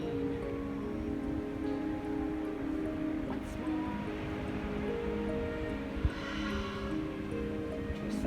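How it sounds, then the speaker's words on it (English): Rain falls in a steady, even hiss with scattered drops, while sustained musical tones hum underneath throughout. "We say thank you, Jesus, for the rain."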